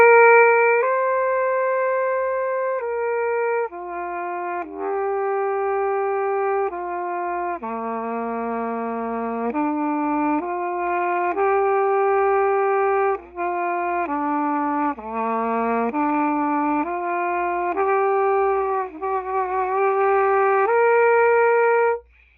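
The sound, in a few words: brass instrument playing a soft drill exercise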